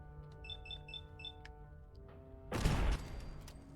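A Fallout 4 turret lets off a short, loud burst of gunfire after a string of soft repeating electronic beeps, the burst lasting about half a second against a quiet game hum.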